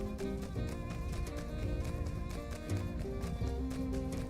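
Horse hooves clip-clop steadily in My Time at Sandrock as the horse moves along, a quick rhythmic trot sitting under loud, continuous game music.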